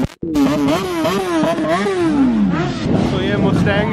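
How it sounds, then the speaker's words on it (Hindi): A Kawasaki ZX10R sport motorcycle revs loudly and close by, its engine note climbing and falling in swoops, with voices in the background. "ZX10R बहुत एक नंबर बाइक है"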